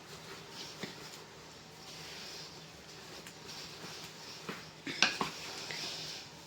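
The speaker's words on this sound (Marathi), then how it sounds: "आता हे सर्व मिश्रण आपण छान मिक्स करून घेऊ." Moong dal sandage mixture with chopped coriander being mixed in a bowl, heard as soft scraping and light clinks of utensil against dish, with a few sharper knocks near the end.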